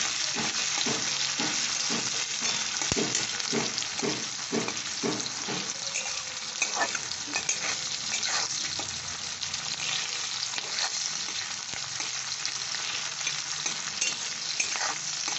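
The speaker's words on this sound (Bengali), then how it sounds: "পেঁয়াজটা একটু লাল করে ভেজে নিতে হবে" Thinly sliced onions fry in hot oil in a pan, a steady close sizzle with a run of rhythmic scraping stir strokes early on, then continuous bubbling crackle without talk.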